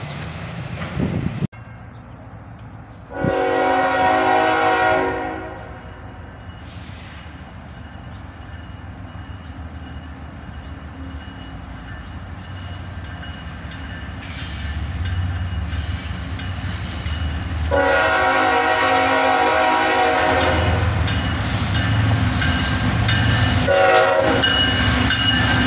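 A southbound manifest freight train led by two ES44AC locomotives passes with a low, building rumble, marked by two loud sustained horn blasts, one early and a longer one later, before the roar of rolling cars grows heavier.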